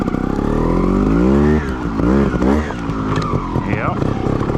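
A Sherco 300 ST trial motorcycle rides through snow, its engine revving and changing pitch up close, rising and falling in short bursts while someone talks over it.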